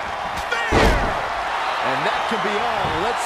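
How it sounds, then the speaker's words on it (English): A wrestling choke slam landing in a video game, one heavy thud over crowd noise and game sound, followed by a commentator speaking. "Choke slam."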